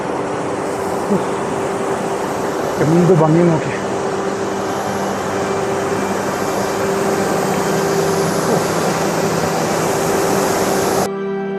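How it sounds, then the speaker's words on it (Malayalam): A steady, loud rushing roar of a waterfall on the Parvati River in Himachal mountains continues throughout, with a person speaking briefly over it. "അതിമനോഹരമായ ഒരു വെള്ളച്ചാട്ടം"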